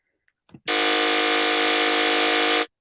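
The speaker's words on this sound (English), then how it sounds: "if there's a beep anywhere" After a couple of faint taps, a loud electronic buzzer sounds one long, steady tone for about two seconds, then cuts off abruptly.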